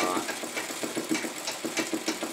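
Treadle sewing machine stitching free-motion embroidery with an exposed needle and no presser foot, running slowly: a steady rhythmic chatter of needle strokes, close and moderately loud, with no talking.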